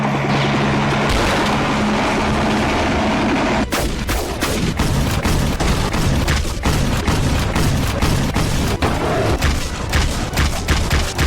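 Explosions and gunfire from the hunting video game Cabela's Dangerous Hunts 2013, a shed full of explosives blowing up in a jungle, with a dense, loud barrage of booms and crackling blasts after a sudden onset.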